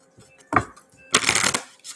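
A deck of Dark Mirror Oracle cards is shuffled close up, two quick riffling bursts of card flutter, the second longer, with a short tap near the end.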